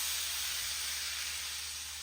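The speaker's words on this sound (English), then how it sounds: "Love the sound of that sizzle." Beef broth poured into a hot pan while making a chuck roast produces a soft, steady hiss that fades slightly over two seconds.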